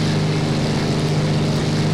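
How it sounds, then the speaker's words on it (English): An 860-horsepower Hispano-Suiza V12 engine drones in a Dewoitine D.501 in the X-Plane flight simulator, a loud, steady propeller hum with no pauses. "Quite the crack to the engine there."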